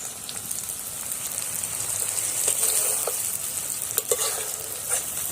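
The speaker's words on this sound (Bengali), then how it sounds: "কাশ্মীরি লঙ্কার গুঁড়োটা দিয়ে দিলাম" Kashmiri chili powder sizzles and fries in hot oil in a pan, a steady close crackling hiss with occasional stirring scrapes, no voices.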